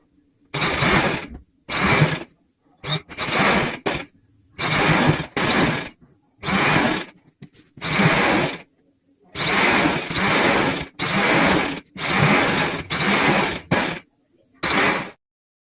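Short, loud bursts of a sewing machine sew a drawstring onto the frill of a three-layer sharara, a regular pattern of separate mechanical whirring runs with brief silences between them and no voices.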